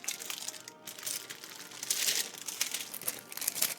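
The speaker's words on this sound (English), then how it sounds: "And we'll peel the wax paper off the bottom." Wax paper peels away from the underside of rolled Christmas cookie dough, giving a close, crinkling, papery crackle that rises and falls in uneven bursts.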